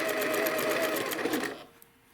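A sewing machine stitches pieces of a Winding Ways quilt block, a steady close rapid hum for about a second and a half before stopping, with a faint click after.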